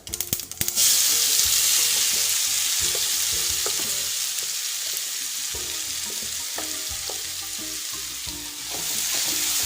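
Bitter gourd thoran mixture with browned chillies sizzling loudly in a pan while a spoon stirs it, giving dense continuous frying hiss broken by repeated scraping strokes and no speech.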